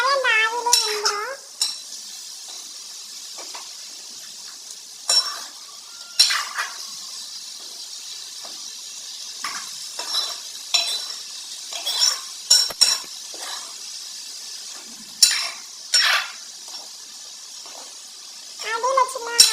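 A spoon stirs a snake gourd stir-fry in a pan, with scattered scraping and clinking over a soft steady sizzle while a person talks.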